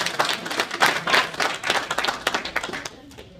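Scattered audience clapping at an Amazon press conference for the Magic City Classic, uneven and moderately loud for a few seconds before thinning out, with no talk over it.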